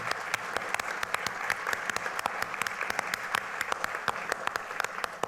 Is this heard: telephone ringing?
no